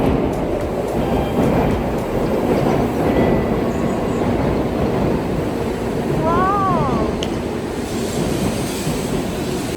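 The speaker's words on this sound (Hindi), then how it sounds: "ट्रेन आई है, सिर्फ हमारी ट्रेन इस वाली लाइन पे आएगी और बस आने ही वाली है।" A bullet train pulls into a station in Japan on a cold morning, its loud continuous rumble filling the platform, with a brief rising whistle-like tone partway through.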